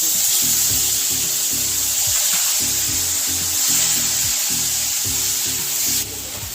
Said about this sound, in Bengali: পেঁয়াজ বাটাটা এই যে ভাজা হোক, একটু লাল করে ভাজি